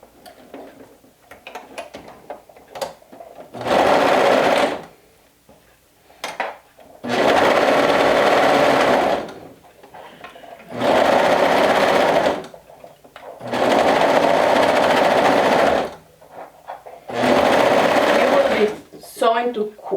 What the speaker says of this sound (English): Sewing through quite a few layers, so make sure that you always feel to make sure that all layers are caught in your sew.